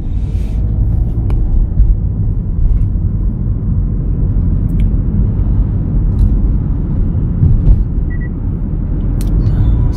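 A car pulling away on a driving-test road, heard from inside as a loud, steady low engine and road rumble with a few faint clicks and no talking.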